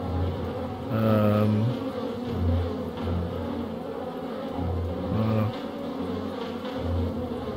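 Flies buzzing loudly in the video game Blackguards, a dense droning swarm with tones that rise and fall as insects sweep close in repeated passes, heard alone without speech.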